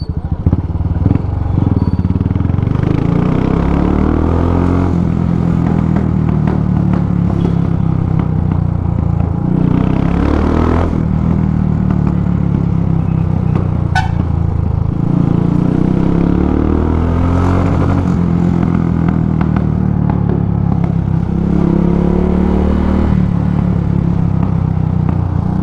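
A modified Royal Enfield Classic 350 fitted with a Motowing aftermarket exhaust thumps loudly and steadily at close range, its deep single-cylinder rumble rising and falling with throttle blips across the whole stretch.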